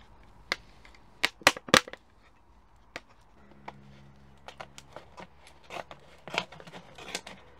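Scissors or a blade cutting open a plastic bottle at home, a few sharp crisp snips and crunches close up, followed by scattered quieter crinkles and handling.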